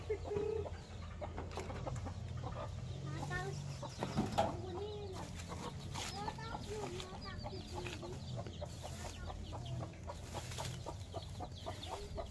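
A mother hen clucks among her chicks in a farmyard, with other chickens and a distant rooster mixed in; steady close clucking and peeping run throughout alongside ongoing background noise.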